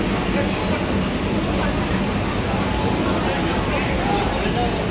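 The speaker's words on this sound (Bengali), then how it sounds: "চলো আমরা ট্রেনে উঠি এখন।" A Kolkata underwater metro train at a station on the Dum Dum to Howrah line makes a steady, loud rumble and rail noise, with people talking over it.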